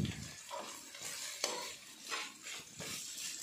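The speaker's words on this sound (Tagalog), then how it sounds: "gigisa lang natin ng konti, mabilisan." Ginger sizzles and crackles in a hot pan while being stirred quickly, with irregular scraping pulses and a sharp clink of a utensil against the pan, close and moderately loud.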